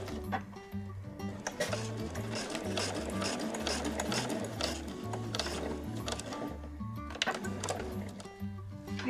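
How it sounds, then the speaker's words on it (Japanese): A sewing machine stitches a second seam on a black body bag with a gusset, running steadily with a rhythmic mechanical chatter and periodic thumps, close and loud throughout. "最初に縫った縫い目から5ミリほど離れたところにもう1本2本目を縫"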